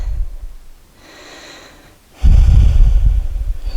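Slow, audible breaths during a yoga stretch: a soft, airy inhale, then a pause, then a strong, close exhale that continues to the end, with no talking.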